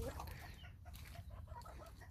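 Backyard flock of chickens and roosters clucking in a steady, busy chorus of overlapping calls, moderately close and continuous throughout, with no talking over it.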